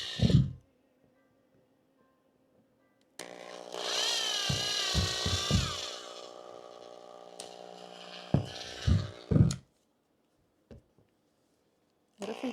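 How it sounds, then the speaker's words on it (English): A power drill boring into material while building winter cat shelters, running in one sustained whining burst of a few seconds, with scattered knocks and handling thumps before and after. "I cradle the drill."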